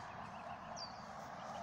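Pet goose playing in a puddle, giving a brief honk-like call around the middle of a steady noisy outdoor background, alone without talk.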